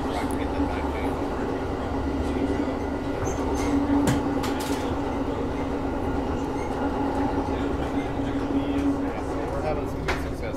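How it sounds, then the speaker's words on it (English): A train rumbles past steadily, heard from inside a dining car, with a continuous rolling roar and occasional clicks and faint squeals from the wheels, voices murmuring underneath. "Another train out there."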